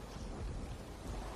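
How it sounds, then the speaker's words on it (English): Steady rain with a low thunder rumble from the weather in the city-building game Tropico 3, an even, continuous wash of fairly quiet noise with no speech. "And it's just rain."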